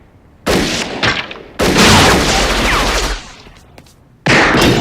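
Gunfire from the 1973 film Magnum Force comes as several loud, sharp bursts with echoing tails, separated by short quieter gaps.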